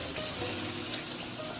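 Pork neck bones are rinsed of blood under running water, giving a short, steady splash and hiss from a tap with no voices.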